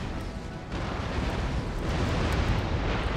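A warship blowing up during a naval battle in the video game Empire Total War, a heavy, rumbling explosion that swells and roars on continuously, loud and close.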